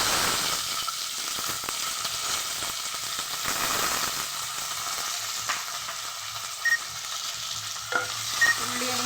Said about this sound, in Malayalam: ഇനി ഉള്ളി ഇട്ട് കൊടുക്കുക.